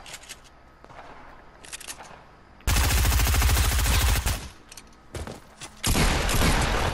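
Automatic gunfire from a shooter in Fortnite: long, loud, rapid bursts of shots, with quieter gaps of distant pops between them.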